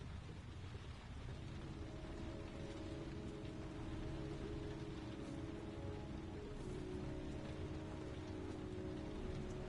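Steady rain falls in the video game Heavy Rain, a dense, even hiss of drops on surfaces with a faint low rumble beneath, continuous and alone for the whole stretch.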